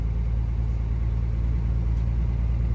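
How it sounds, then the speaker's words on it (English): A 2006 Ram 2500 pickup truck driving on the road, its engine and road noise forming a steady, loud low rumble throughout, with no talking. "we're driving the truck home and drove past the cat scales"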